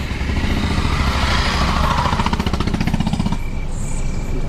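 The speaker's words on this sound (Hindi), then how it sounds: "दो बाइक वाले जाते हुए।" Two motorbikes pass on a jungle road at night, a loud rapid engine rattle building then cutting away after about three seconds, leaving quieter vehicle hum.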